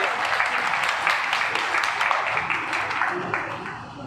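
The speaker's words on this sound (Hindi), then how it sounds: "एक बार जोरदार तालियां।" Applause from a political gathering in Delhi, steady and dense for about four seconds before tapering slightly at the end, with faint voices underneath.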